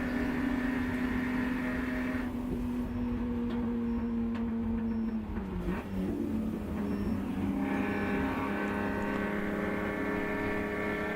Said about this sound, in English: As you can just hear him just working that engine, just nice and smooth through there.